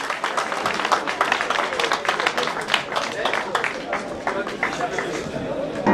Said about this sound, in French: Des applaudissements nourris pour ce plateau formidable.